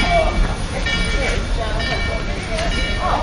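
Durango and Silverton narrow-gauge train 482 pulling away at a 2011 railfest, a steady broad rumble of moving railcars with faint clatter, heard at moderate distance under background chatter.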